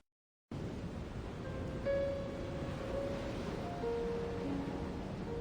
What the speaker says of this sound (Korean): 깡촌의 빈집은 여전히 시린 바람소리로 가득합니다